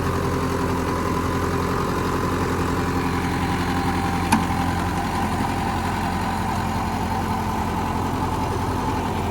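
A tractor engine runs a rotavator at a set 1500 rpm, a steady dense mechanical drone held evenly for the whole stretch, close and loud, with one brief metallic click midway and no talking.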